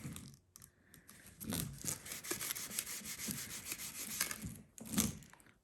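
A DeWalt dust extractor hose fitted with a sleeve scuffs and slides along the edge of a wood piece, making soft, uneven rubbing and brushing sounds in short strokes, close up and quiet.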